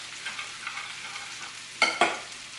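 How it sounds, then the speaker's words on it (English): A cowboy casserole stirred in a pan, with a soft steady sizzle followed by two sharp scraping strokes of the utensil near the end, close and fairly quiet. "Now, I am going to give this a stir"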